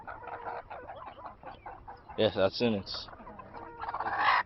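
Pastured poultry hens cluck and squawk nearby in short, rising bursts, growing louder toward the end, while a person speaks quietly at the start.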